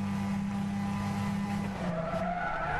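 A car in the racing game Gran Turismo 6 slides at high speed, engine droning steadily while a rising tire squeal builds toward the end, loud and continuous with no talk.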